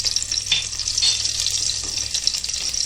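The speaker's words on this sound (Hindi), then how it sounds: "गैस चालू किए, 1 टेबल स्पून तेल डाले। अब ये लहसुन डालेंगे।" Garlic frying in a tablespoon of hot oil on a gas stove for a masoor dal tempering, a steady bright sizzle with a few soft stirring scrapes, close and continuous, no talking.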